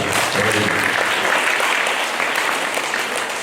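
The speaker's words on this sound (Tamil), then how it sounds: "very good, கைதட்டுக்கலாம்" A church congregation at a Sunday Mass in Adhanur breaks into a dense, steady wash of clapping, loud and continuous throughout.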